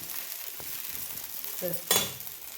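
Ghee sizzles around a rava dosa with onions on a hot pan, a soft continuous frying hiss that flares into a brief louder burst near the end.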